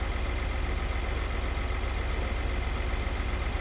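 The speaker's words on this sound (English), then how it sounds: "Hear the tractor roar." A tractor engine in the video game Farming Simulator 2013 idles in a steady, low rumbling drone, continuous and even throughout with no voices.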